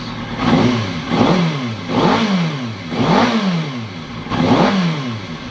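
Kawasaki Ninja ZX636 motorcycle engine revved repeatedly up close, about five rising-and-falling blips in a steady rhythm between idle, loud and clear with no talking.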